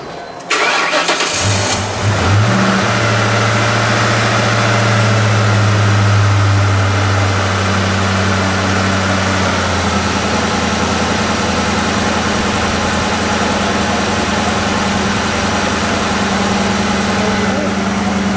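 A 2004 Ford Mustang Mach 1 cranks briefly and fires, its engine surging loudly before settling into a steady, close, deep idle that holds for the rest of the recording.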